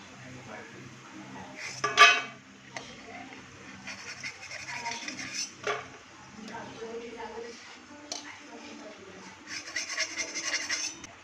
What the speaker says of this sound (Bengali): আমার বাদাম ভাজা হয়ে গেছে এবার বাদামটা আমি তুলে নেব